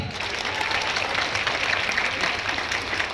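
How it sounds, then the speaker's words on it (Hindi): An audience at a motivational talk breaks into continuous applause, a dense even wash of clapping with no single claps standing out, steady in loudness throughout. "एक ताली तो बनता है यार।"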